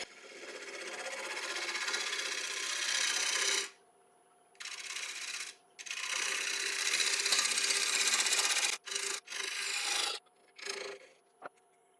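A wood lathe turns a split oak platter enhanced with blue epoxy resin while a tool scrapes across it in raspy passes, broken by short pauses and quick restarts.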